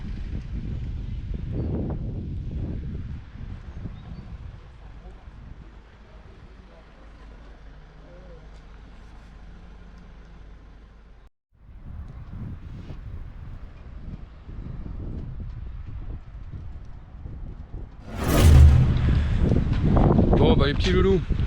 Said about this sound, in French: il y a encore du vent